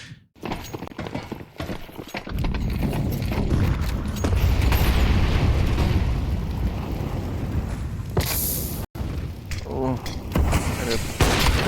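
Grenade blast in Counter-Strike 2 during a FaZe vs Monte ESL Pro League playoff match, a loud booming rumble sustained for several seconds amid gunfire and game noise, with a caster talking over it.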